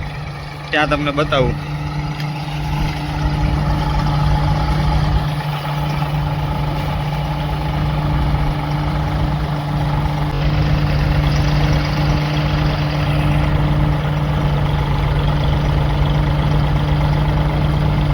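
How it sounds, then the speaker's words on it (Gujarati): A tractor engine runs with a steady low diesel rumble and drone while reversing on a farm during groundnut threshing, and someone talks briefly over it near the start. "ચાલો આપણે ટ્રેક્ટર પાછું મારે છે"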